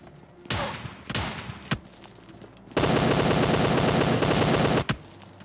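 Gunfire in PUBG Mobile Lite, an Uzi match: a few separate loud shots, then a dense sustained automatic burst lasting about two seconds, close and harsh.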